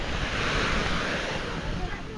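Sea waves rolling onto a calm seashore, a continuous low rushing surf mixed with wind buffeting the microphone, steady and fairly close with no clear talk.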